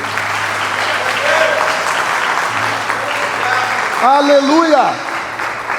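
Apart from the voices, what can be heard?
church congregation applauding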